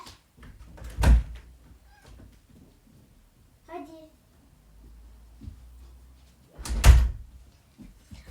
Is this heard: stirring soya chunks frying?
no